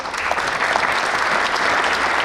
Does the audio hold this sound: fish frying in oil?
no